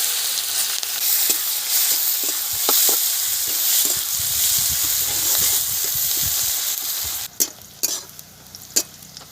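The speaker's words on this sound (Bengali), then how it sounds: "কালো জিরে ফোড়ন দিলাম পেঁয়াজ দিলাম" Onions and nigella seeds fry in hot oil, a loud bright continuous sizzle with steady stirring, ending in a few sharp utensil knocks near the finish.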